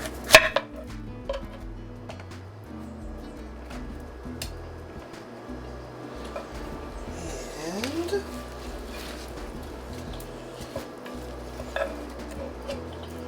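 A knife trims the tops off a fennel bulb on a kitchen cutting board, giving a few sharp chopping knocks over faint background kitchen noise and a low rumble.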